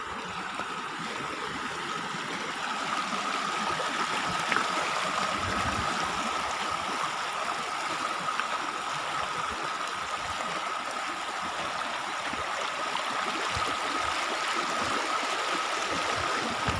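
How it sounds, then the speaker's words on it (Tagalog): Water from a small creek flows steadily as a broad, continuous wash, fairly near and even in level throughout, with no voices over it. "Ulit naman po siya na parang creek. Sapa."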